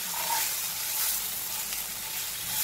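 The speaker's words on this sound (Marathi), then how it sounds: "अलगद अलगद अशी भेंडी पुढे मागे केली तरी आपल्या ओके" Okra stuffed with roasted gram flour sizzles softly in a pan over a low flame as it is gently stirred back and forth, a steady, close, quiet frying hiss with no other sound.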